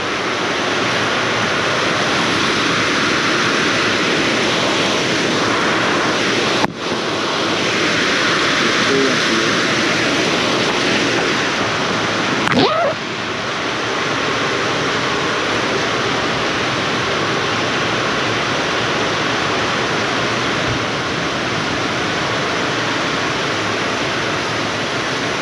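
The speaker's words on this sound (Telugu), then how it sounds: "ఇక్కడ నీళ్ళు వస్తున్నాయి అన్నమాట లోపలికి," Water pours into a tent in a loud, continuous rushing wash that stays close and constant throughout, broken only by a couple of brief knocks.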